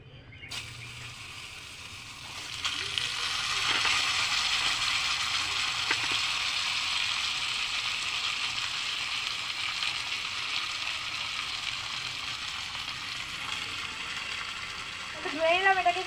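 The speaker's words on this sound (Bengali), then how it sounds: "এখন আমি এর মধ্যে দিয়ে দিচ্ছি আলু আর পটলটা।" Potato and pointed gourd sizzle steadily in hot oil in a small home kitchen pan, a continuous broadband fry that holds for most of the stretch and grows slightly busier toward the end, with no talking over it.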